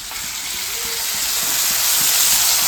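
Onion, green chili and coriander frying in a pan, an intense crackling sizzle that grows gradually louder over a couple of seconds, with no voices.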